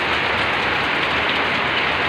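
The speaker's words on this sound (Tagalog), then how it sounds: "Ngayon na po ang ulan, sobrang lakas." Very heavy rain pours down steadily at a plant in Meycauayan, Bulacan, a dense, loud, continuous hiss of rainfall with no voices over it.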